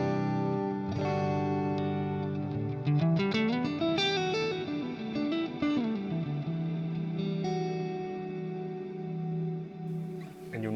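An electric guitar through an Axe-Fx with a Nimbus Stratus reverb plays a short melodic phrase drenched in lush reverb, notes blooming and washing into a long sustained ambient tail.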